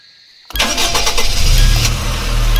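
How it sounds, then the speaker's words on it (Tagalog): A car engine in the Roblox game Midnight Cop cranks and catches abruptly after a brief quiet lead-in, then runs on in a rough, loud, sputtering idle. "Nagluloko pa yung makina."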